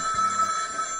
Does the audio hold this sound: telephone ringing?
yes